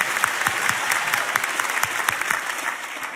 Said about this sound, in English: Clap like it's not you.